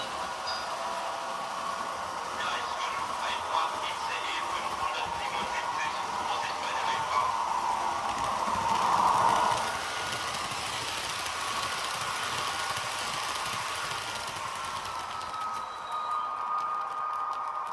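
A Roco ICE1 H0 model train locomotive running with its engine sound, a steady mechanical drone with a brief louder swell midway, close and continuous.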